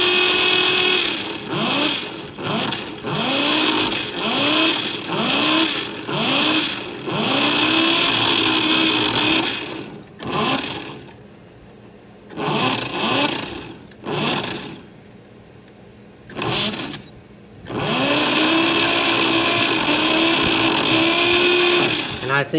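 A 1952 Chevy truck engine with loose valves and little compression runs roughly, revving and sputtering in uneven surges with gaps, while people talk nearby.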